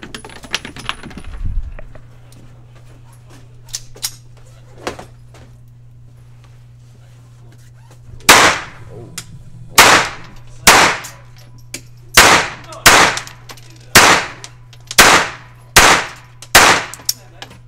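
Gunshots at a gun range: a quiet stretch with a low steady hum, then about ten loud, sharp reports fired at roughly one-second intervals.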